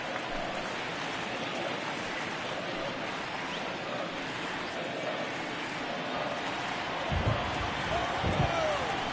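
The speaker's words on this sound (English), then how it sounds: "I don't know how much more rain this field can take" Steady rain hisses across a baseball field in MLB 19 during a Diamondbacks–Nationals playoff game, a dense even wash with a few dull thumps near the end.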